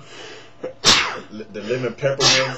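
A person sneezes sharply, then sneezes again about a second and a half later, close up, while people chat indoors around them.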